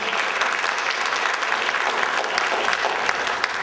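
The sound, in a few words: applause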